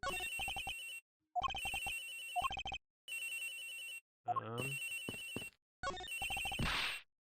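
A cell phone ringtone in the video game Ace Attorney rings in five loud, evenly spaced electronic bursts with short silent gaps between them, close and clear, with no voices.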